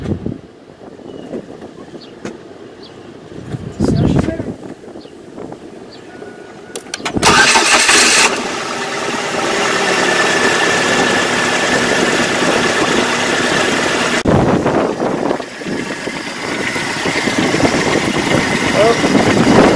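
A car engine cranks and catches after a fresh set of spark plug wires, then settles into a steady idle with a loud, continuous rumble, close to the microphone with some wind noise.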